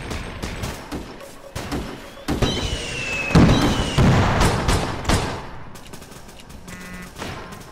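Pistol gunfire in the video game APB Reloaded: a rapid series of sharp shots and bangs, loud and close, with some echoing booms layered through the sequence.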